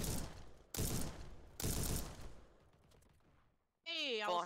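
Shotgun blasts in Roblox Ruddev's Battle Royale, three loud close shots spaced under a second apart with ringing tails, followed by quiet and then a burst of talking.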